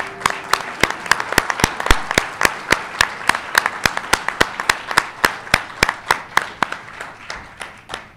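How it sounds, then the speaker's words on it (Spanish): Audience clapping at an architecture lecture, heard as a regular run of sharp, loud single claps at a steady rhythm, close and distinct, with a faint wash of other hands behind and tapering toward the end. "Un fuerte aplauso, por favor."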